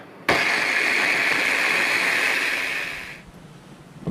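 A small spice grinder pulses onion in one loud, close whirring burst of about three seconds that starts abruptly and then winds down into quiet.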